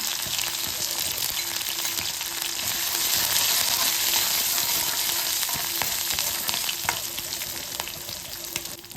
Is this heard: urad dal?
yes